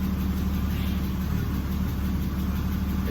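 A BMW E36 with an M50 engine and shorty headers idles steadily up close, a low continuous rumble with a faint tick that may be a slight knock, no revving and no talk.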